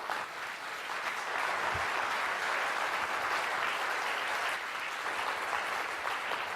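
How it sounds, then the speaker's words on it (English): Keynote audience applauding a man for his new grandchild, a dense, steady roar of many hands clapping that stays loud and even from start to finish, with no speech over it. "can we all give him a round of applause for his new grandchild?"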